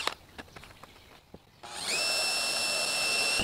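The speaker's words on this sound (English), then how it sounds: "that's all the pilot holes drilled." Soft taps and rustles, then a power drill whirs up and runs steadily at a high, constant whine close by, drilling pilot holes through an angle on a Porsche 987.2.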